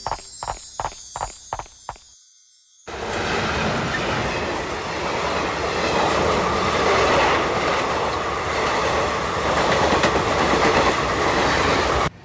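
A train rumbles past with a continuous clattering roar, wheels clicking over the rails, after a few brief rhythmic knocks at the start.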